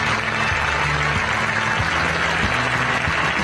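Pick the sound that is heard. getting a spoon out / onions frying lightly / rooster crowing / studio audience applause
studio audience applause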